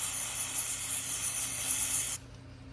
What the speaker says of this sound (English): I'll just give it a quick spray.